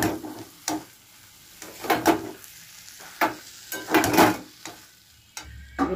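Lote fish (Bombay duck) with potatoes being stirred in a frying pan: a soft steady sizzle broken by a series of louder, irregular scraping stirs, close by, with no talk.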